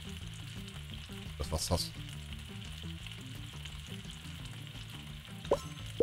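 Egg and onions frying on a grill in the video game Galaxy Burger, a steady close sizzle running throughout with a few sharp clicks and plops over faint background music.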